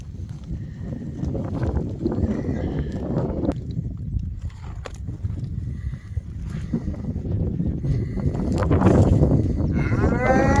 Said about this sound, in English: God, this cow is beautiful.